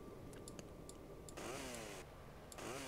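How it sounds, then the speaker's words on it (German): Chainsaw weapon in the GTA Vice City PC game, revving over a steady background drone, the motor pitch sweeping up and down in two surges with a few clicks. "Schön Kettensäge, ja."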